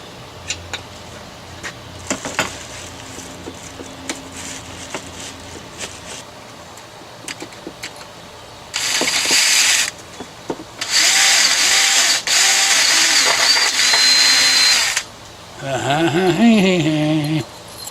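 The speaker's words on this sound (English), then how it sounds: "Just cutting right through what's left of the screw." A power tool whines in several loud bursts, cutting through a corroded screw on a 1974 Johnson 25 hp outboard motor, with quieter tapping and clinks before it and a pitch-shifting whir at the end.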